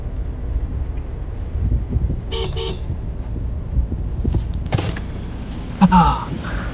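A car horn gives a few short toots spaced over several seconds, heard over a steady rumble of engine and wind noise.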